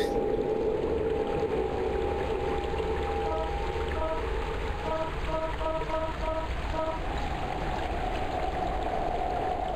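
Steady flowing water streams in a haunted PS1-style horror game, a constant rushing wash with faint tonal beeps layered over it partway through.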